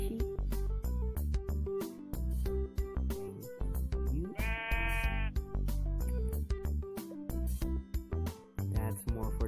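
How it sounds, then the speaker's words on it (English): Minecraft Pocket Edition sheep bleats once in a short warbling call, heard over busy game background music in a survival world. "Oh, there's a sheep."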